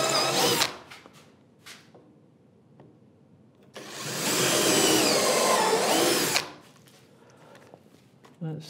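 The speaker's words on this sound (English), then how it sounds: "I'm still pre-drilling the hole" An electric drill pre-drilling a screw hole for fitting castors whirs in short bursts, then runs steadily for a couple of seconds at close range before stopping, with quieter pauses between.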